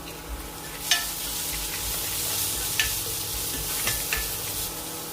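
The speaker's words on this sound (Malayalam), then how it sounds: "ചെറുതീയിലൊന്ന് വഴറ്റിയെടുക്കണം" Crushed cumin, pepper, ginger and green chillies sauté on a low flame, a soft continuous sizzle broken by a few light scrapes of a stirring spoon, with no talk.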